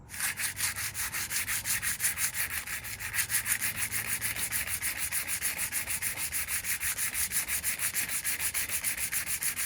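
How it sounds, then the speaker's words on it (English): Rust being sanded off a metal surface: a continuous, close, rhythmic rasping scrub with fast regular strokes, steady and loud throughout with no voices. "Let's see if we can get that sanded out."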